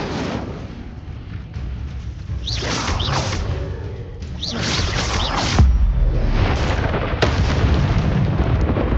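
Incendio fire spell cast in Hogwarts Legacy, loud whooshing bursts and booming blasts repeating over a continuous rumbling game soundscape.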